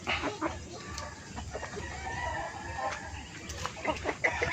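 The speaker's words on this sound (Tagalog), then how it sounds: "ayan ayan yung mga manok natin puti" White chickens cluck repeatedly in short, scattered bursts against a steady farmyard background, with an occasional louder squawk near the end.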